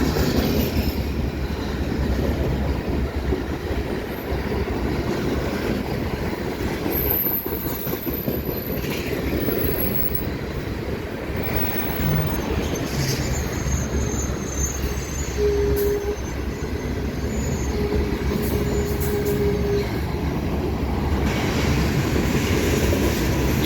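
Freight train with coil cars rolling past on the Dundas Subdivision near London, Ontario: a steady, moderately loud rumble of wheels on rail with occasional thin wheel squeals and faint clicking joints.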